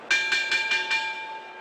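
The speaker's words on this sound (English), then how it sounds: "There's the warning bell." Boxing ring warning bell before a championship rematch: five quick, evenly spaced metallic rings with a sustained tone hanging underneath, clear and fairly close.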